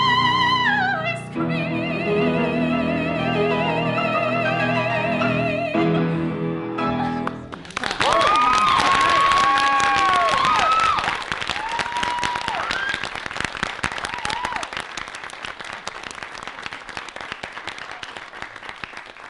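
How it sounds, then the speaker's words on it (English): A cheering section in a master class bursts into loud, sustained applause and clapping that carries through the rest of the passage after a stretch of music, with no one talking over it. "You have your cheering section."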